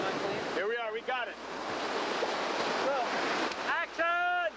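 Ocean surf on Hawaii's North Shore rolls and hisses steadily with wind noise, while high whistling calls cut in twice, loud and close.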